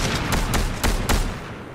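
Gunfire from an unseen shooter in a multiplayer video game: a rapid burst of loud, sharp shots in quick succession, with a few more cracks following before it fades.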